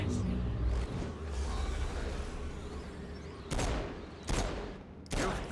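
Pistol shots ring out in the video game Saints Row: Gat out of Hell, three sharp, loud reports spaced about a second apart over a steady rumble of game ambience and effects.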